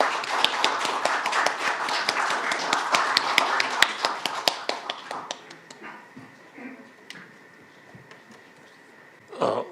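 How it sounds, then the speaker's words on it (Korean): Audience applause welcoming a speaker at a commemorative ceremony, a dense wash of clapping that holds for about five seconds before thinning to scattered claps and fading, with some room noise afterward. "박수로 환영해 주십시오"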